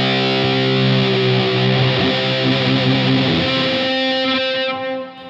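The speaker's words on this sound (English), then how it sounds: "So it's got fuzz, but it also has onboard reverb that you can choose to put before or after the fuzz." Electric guitar through a fuzz pedal with onboard reverb placed before the fuzz, sustained distorted chords ringing thick and loud, then washing out into a reverberant tail.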